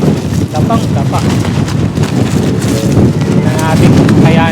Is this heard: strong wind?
yes